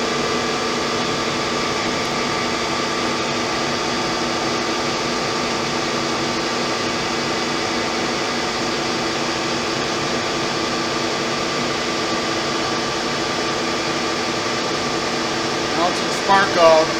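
A Blanchard 22AK 42 rotary surface grinder runs through spark out with a loud, steady mechanical hum and whir that holds throughout, with a few brief knocks near the end.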